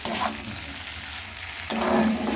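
Paneer being sautéed in a home kitchen pan gives a soft, steady sizzle with light stirring, quiet and close, with no one talking.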